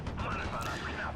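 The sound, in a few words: Bantam recce vehicle firing in Steel Division: Normandy 44, video game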